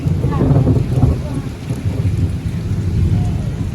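Rain falls steadily as thunder rolls, a loud low rumble spreading under the constant patter of a heavy downpour.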